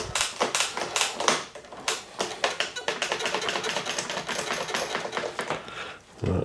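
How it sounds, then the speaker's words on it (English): A broken gear lever being shifted on a Focus bicycle during a workshop service, producing a rapid run of sharp, close mechanical clicks and ratcheting taps with brief gaps, no talking. "Just move the gear lever now."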